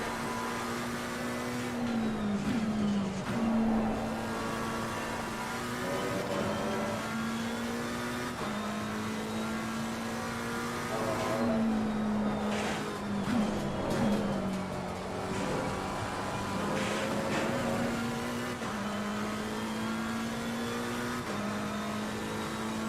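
A McLaren 720S engine in Assetto Corsa Competizione drones steadily at Imola, climbing and dropping through repeated gear shifts, loud and close with no talk over it.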